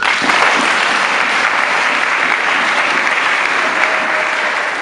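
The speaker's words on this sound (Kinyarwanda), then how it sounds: "nimwongere mu Imana amashyi" A church congregation at an ADEPR service claps together in sustained, dense applause, loud and steady throughout with no pauses, filling the room without any voices on top.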